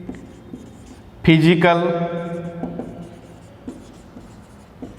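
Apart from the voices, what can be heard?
writing on a board while lecturing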